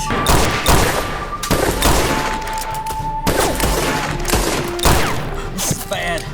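Gunfire volley in a western action film: loud bursts of shots crack in rapid succession throughout, with sharp repeated impacts and some voices mixed into the barrage.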